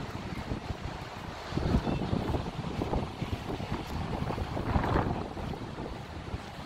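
Water splashes and rushes around a moving boat in Iceland while steady wind buffets the microphone, with occasional louder surges of spray.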